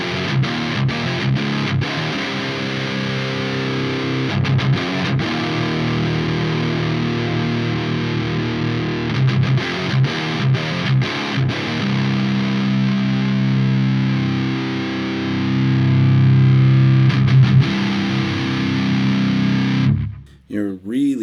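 Electric guitar played through a Havok Elektronix FD-1 distortion pedal, a Randall RG100 clone, giving a thick, sludgy, punchy low-end tone that rings steadily with short pauses between phrases and cuts off near the end.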